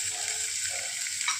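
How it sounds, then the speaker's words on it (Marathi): Finely chopped onion frying in hot oil gives a steady, soft, bright sizzle across the short moment, with no voices. "त्यानंतर आपण छान बारीक चिरलेला कांदा टाकून घेऊया"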